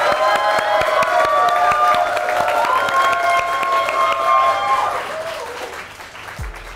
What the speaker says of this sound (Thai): ขอเสียงปรบมือกับพี่นายดีและ King Hattrick